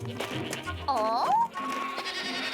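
A single goat in an animated cartoon gives a brief, wavering bleat, clear and fairly loud, amid light background sound and cartoon effects.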